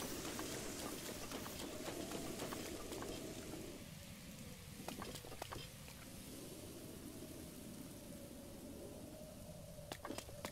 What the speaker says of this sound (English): rain is stopping